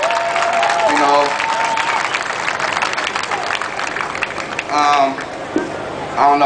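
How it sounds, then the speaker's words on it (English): A street protest crowd in Oakland over the Johannes Mehserle verdict claps and cheers steadily, with voices mixed into the applause and a few shouts standing out near the end. "y'all give yourselves a round of applause for coming out and standing up"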